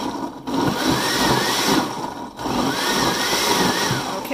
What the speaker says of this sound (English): I won't leave the blender on for the whole time.